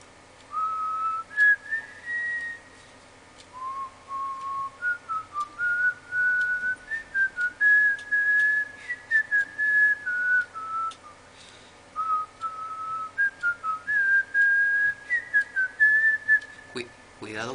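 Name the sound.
person whistling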